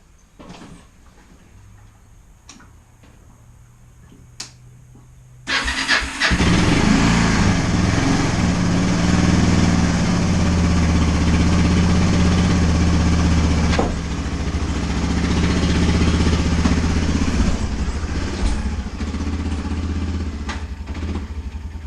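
A very small ATV four-wheeler is cranked and fires up, after some quiet clicks and handling noises, into a loud, close, buzzy idle that keeps running steadily with slight changes in pitch.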